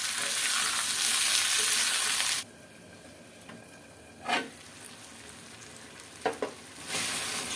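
Chopped tomatoes dropped into hot spices and bay leaves frying in a pan: a loud hiss for about two seconds, then quieter sizzling with a few stirring scrapes and brief bursts.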